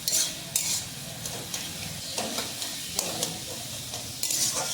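Celosia (cockscomb) greens frying with onion sizzle quietly in a pan, broken by bursts of stirring and scraping and a few clinks of the utensil against the pan. Nobody talks.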